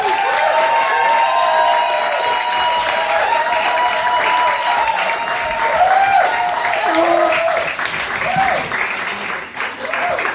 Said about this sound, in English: I want a massive round of applause, starting from this side of the room and moving all the way over